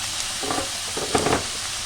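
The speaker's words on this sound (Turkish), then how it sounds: "Evet arkadaşlar tartma etimiz kavruldu gördüğünüz gibi." Minced meat for tantuni sizzles and fries in a hot pan, a steady close crackle with a few louder bursts of stirring, and no voices over it.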